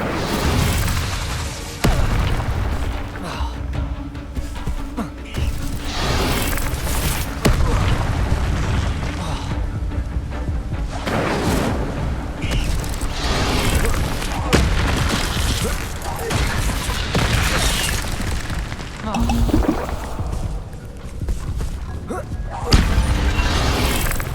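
Incendio fire spells cast in the video game Hogwarts Legacy, with repeated booming, fiery bursts rising out of a dense, continuous bed of game sound and effects. Some talk may run underneath.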